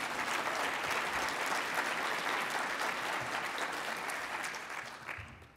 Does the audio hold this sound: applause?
yes